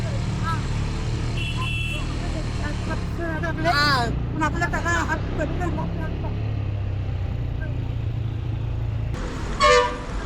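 Heavy road traffic on a ride between Mahad and Thane hums along steadily, broken by a couple of short car-horn toots, with a rider talking over the noise.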